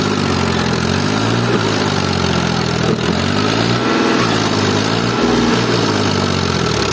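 A Powertrac 434 DS tractor's diesel engine idles steadily nearby, a loud, even chugging throb that continues throughout without speech.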